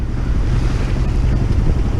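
Choppy water swirling in a shallow tidal channel of the St. Lawrence near Tadoussac, with wind buffeting the microphone in a constant loud rush and no speech.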